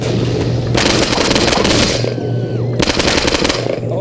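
Loud video game gunfire in Postal 2, dense bursts of automatic shooting with booming reports in two long volleys separated by a short gap.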